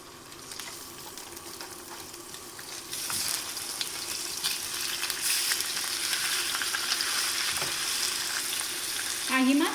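Chicken pieces frying in melted fat in a hot pan, a steady broadband sizzle that swells louder after a few seconds, with a few clinks of utensils and a brief sharp hiss near the end.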